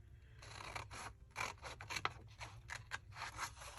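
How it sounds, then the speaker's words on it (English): Scissors snip through two stacked paper rectangles in a quick run of close, crisp cuts, with slicing and rustling under a faint low hum and no talking. "I'm holding 2 rectangles and we'll cut here."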